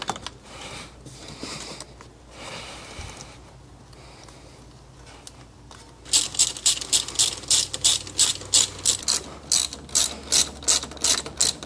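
Rapid, loud ratchet clicking as clamps are tightened on the blow-off valve plumbing of a built Subaru engine, arriving in quick repeated bursts after a stretch of quieter shop noise, with no talking.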